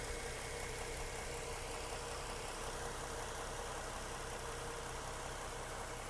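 A 2015 Mustang 50th Anniversary 3.7 liter V6 engine idles steadily at close range, a continuous even hum with light mechanical ticking and no other sounds.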